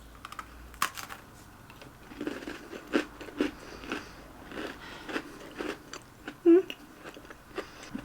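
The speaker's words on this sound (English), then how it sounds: "Okay, first few chews, no flavour, just the biscuit." A vegan pumpkin spice Oreo biscuit with white cookie wafers is chewed close to the mic, giving a series of crisp, irregular crunches and bites over several seconds.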